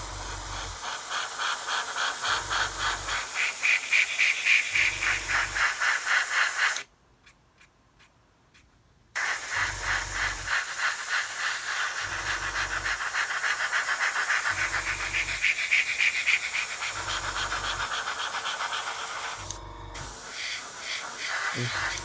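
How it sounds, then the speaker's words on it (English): Spray paint is applied lightly to a model aircraft's flaps and undercarriage doors in short repeated bursts of close hissing, with one longer pause of near silence and a brief break near the end. "Okay, so you can see how lightly I'm spraying that."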